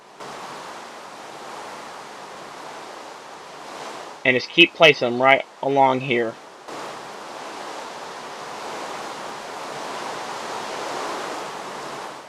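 Water poured from a bucket flows steadily in the Minecraft video game, a soft constant rushing hiss that runs throughout while a person briefly talks in the middle.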